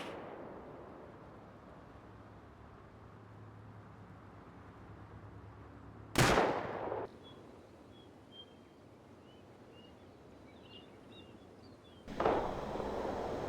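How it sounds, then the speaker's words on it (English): Rockets hitting a player base during a large rocket raid in a video game: two loud, booming blasts about six seconds apart over a steady low rumble of background noise. "More rocket fires coming in"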